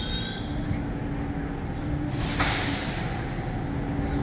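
An NYC subway N train pulls out of Astoria Ditmars Blvd station, a steady low rumble of rail cars with a sudden hiss of air brakes releasing midway, fairly close and continuous.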